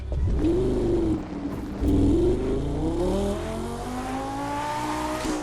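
A Lamborghini engine in The Crew 2 revs and climbs through its range, with crackling afterburn pops between rising, steady engine tones, loud and close.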